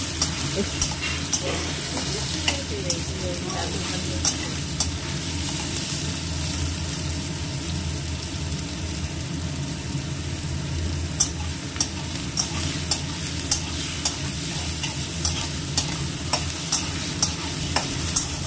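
Ginger, garlic and onion paste fries with cumin and coriander powder in a pan, a steady close sizzle with repeated scraping strokes of a stirring spoon throughout.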